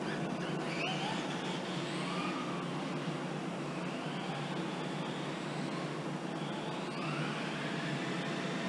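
Steady whirring electric motor of a Tamiya TT-01 radio-controlled car on its first run around a new track layout, constant and unbroken with faint rising and falling pitch sweeps as it accelerates and turns.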